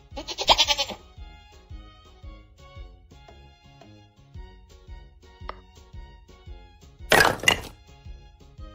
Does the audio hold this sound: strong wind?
no